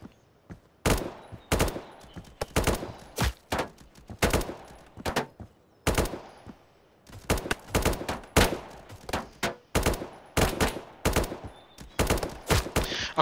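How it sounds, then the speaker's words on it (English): Gunfire in the Roblox shooter Blackhawk Rescue Mission 5, with loud, close bursts of rapid automatic shots in repeated clusters separated by brief pauses, alone without talk. "Maybe they're shooting us from the other side."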